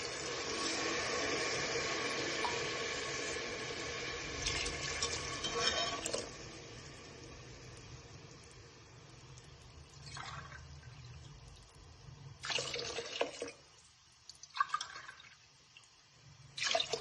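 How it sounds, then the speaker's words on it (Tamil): Water is poured from a tumbler into rice for chicken biryani, a splashing and trickling fill that runs for several seconds, then stops and gives way to short clatters and pours in a quiet kitchen. "5 டம்ளர் தண்ணி சேர்த்துக்கலாம்."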